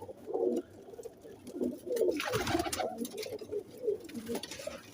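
Several Teddy pigeons at a breeder's loft keep up a steady, overlapping chorus of low rolling coos, close and moderately loud, with a brief flutter of wings midway.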